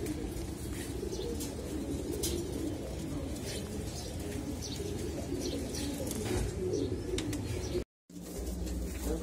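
Racing pigeons in a loft coo softly and repeatedly, with scattered chirps and light rustling all around, broken by a brief silent dropout near the end.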